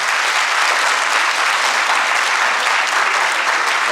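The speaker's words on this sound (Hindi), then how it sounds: "तालियां" A theatre audience gives a loud, sustained round of applause after a stage performance, dense, continuous clapping at a steady level from start to end with no voices over it.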